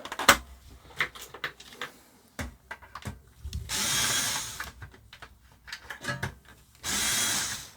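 Screws are worked loose inside a 1987 Hitachi MX-W01 Opus 1 boombox, with scraping, clicking tool sounds and two longer bursts of rasping friction, close up.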